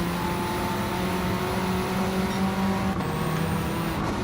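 Race car engine in Gran Turismo 7 running at a steady, loud drone with sustained harmonic hum, bogging down slightly without sharp revs, continuous throughout.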